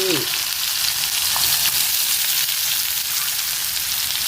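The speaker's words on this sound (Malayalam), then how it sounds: "കടുക് പൊട്ടി വരുന്നുണ്ട്" Mustard seeds fry in hot coconut oil, making a dense, continuous sizzle with scattered crackling pops after a brief voice at the very start.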